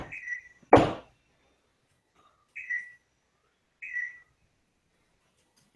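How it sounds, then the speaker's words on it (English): Short, high whistles sound three times in a video game lobby, spaced a second or more apart, with a single sharp knock near the start and silence in between. "I'm getting so many whistles right now."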